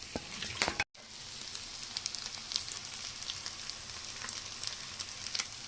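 Fish pieces fry in a pan with a continuous soft sizzle and scattered crackling pops, fairly quiet overall, with a momentary dropout early on.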